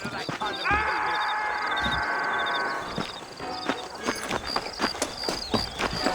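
Horses' hooves clip-clop in a Red Dead Redemption western video game, with an irregular run of clattering hoof strikes following a long tonal whinny-like sound, close and fairly loud.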